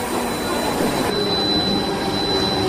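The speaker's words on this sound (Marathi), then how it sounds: "और आखिरकार ट्रेन आ गई" A train pulling into a station, with steady rumbling rail noise and a faint squeal of wheels holding loud and even throughout, a faint voice barely present beneath it.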